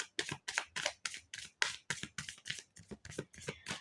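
Tarot cards shuffled by hand in a quick, regular series of about a dozen crisp riffling bursts, close and clear, with no voices.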